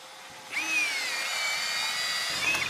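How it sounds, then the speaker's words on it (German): An 8 mm bit drills into hard wood, a steady high-pitched whine starting after a brief pause and holding for a couple of seconds, close and fairly quiet. "Zum Schluss wird mit dem 8er-Bohrer gebohrt"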